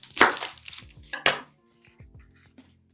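Onion being peeled and handled on a kitchen counter, with a few sharp crackling tears and knocks of papery skin early on, then lighter scattered rustles and taps nearby, no talking.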